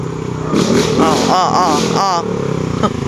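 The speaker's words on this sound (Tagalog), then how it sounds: "Grabe naman to mga motor na ito oh." Motorcycle engines rev and pass close by, loud and whining, with a voice talking over the traffic.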